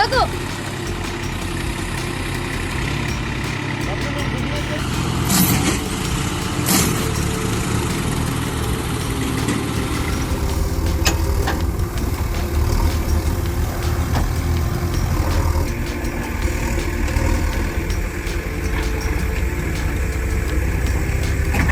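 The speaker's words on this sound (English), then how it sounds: "The 90-horsepower engine roared desperately as the wheels spun on the mushy ground." A loud 90-horsepower tractor engine roars steadily throughout, deep and rumbling, with shifting pitch as if straining under load as its wheels spin in deep mud, and a few sharp knocks early on.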